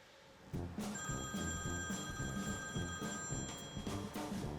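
A telephone bell rings loud and close in regular bursts, a bright trilling pulse repeating several times in quick succession with no talk over it.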